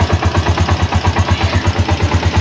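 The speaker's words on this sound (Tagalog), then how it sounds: "umi-start na po yung motor natin." A Honda TMX motorcycle single-cylinder engine idles just after starting, a loud, close, even pulsing putter with a quick steady beat throughout.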